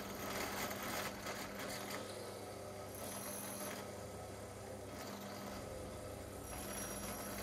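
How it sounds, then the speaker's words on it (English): A drill runs steadily, boring a 5mm hole in aluminium, with a continuous mechanical whine and hum, its cutting noise rising and falling slightly as it works. "the next thing I'm going to do is drill the clamping hole to 5mm"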